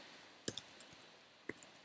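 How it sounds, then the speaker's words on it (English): A computer keyboard is typed on during a MySQL database demonstration, a few faint, sparse key clicks in two small bursts against a quiet background. "Now I started a transaction by typing the keyword begin."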